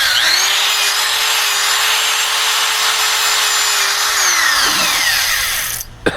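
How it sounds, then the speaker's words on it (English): A wire brush scrubs rust stains off Johnson 25 hp outboard motor parts, a steady close harsh grinding with a whining tone that winds down and stops near the end. "The next thing I'm going to do is clean all these off with the wire brush"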